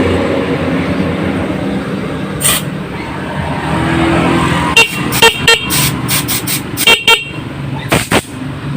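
Loud car horn honking in a series of short toots, starting with one blast then several quick repeated beeps, over steady engine and road noise while a passing light is wired to a mini driving light.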